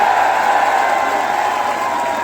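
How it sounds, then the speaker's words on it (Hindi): A large crowd at a political rally in Deoband applauds loudly to welcome former chief minister Mayawati, a dense steady wash of clapping and crowd noise. "हम जोरदार ताली बजाकर स्वागत करें"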